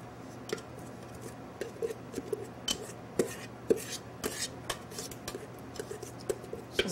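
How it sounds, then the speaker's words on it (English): Spoon or spatula tapping and scraping in a bowl while Baileys is mixed into a cheesecake base, sharp irregular clicks recurring every half-second or so over a quiet, steady background hum. "Now I'm going to mix our Baileys in with the base. And I'm going to mix that up."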